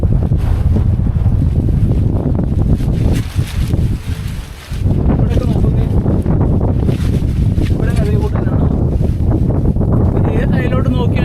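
Strong wind roars and buffets the microphone almost continuously on the hilltop at Illikkal Kallu, with a brief lull midway; a voice speaks faintly beneath the gusts.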